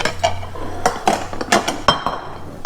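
Warm ceramic plates are lifted out of a home microwave in a kitchen while cooking tuna and mushroom risotto, clinking and clattering in a string of sharp, close knocks with a low appliance hum underneath.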